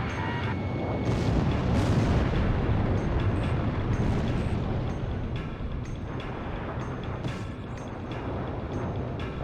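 Bombs explode in a war video game, giving dense, continuous rumbling blasts and booms with scattered sharper cracks, loud and sustained throughout.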